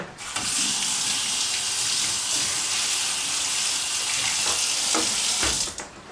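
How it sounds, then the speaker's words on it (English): Tap water runs steadily into a kitchen sink as a pot is rinsed under it, a continuous close hiss and splash of about five seconds that stops abruptly at the end. "Let me just put this over into the sink and give it a quick rinse."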